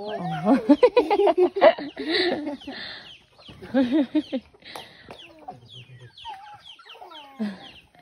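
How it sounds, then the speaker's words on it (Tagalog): Farm chickens cluck and crow in short bursts at close range, while children and adults chatter excitedly over them throughout. "Manok."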